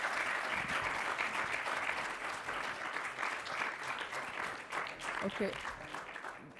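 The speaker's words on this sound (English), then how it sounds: "please, just one more round of applause for all the panelists" Steady applause from a conference audience for a panel of speakers fills the whole stretch, dense and even. A brief spoken word surfaces near the end.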